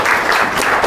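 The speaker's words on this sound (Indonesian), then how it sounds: "Tepuk tangan untuk kenanya." A short burst of classroom applause as children clap for a classmate who answered a maths question about ratios, a brief, busy patter of hands.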